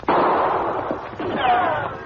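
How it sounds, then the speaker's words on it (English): Gunfire in an old Western radio drama set in a canyon: loud, close shots and booming reports that ring out and echo, layered with crackling, dense noise. "Maintain spaced gunfire to keep his attention."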